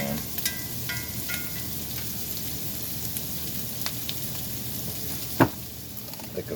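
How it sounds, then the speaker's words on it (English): Bacon frying in lard in a pan gives off a continuous, fine crackling sizzle like light rain, steady and close, broken by one sharper pop or clink near the end, with no one talking. "add a little lard to the pan"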